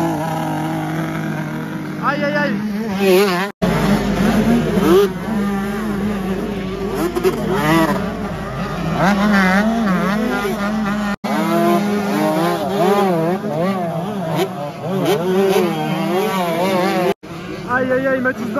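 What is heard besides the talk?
motocross motorcycles racing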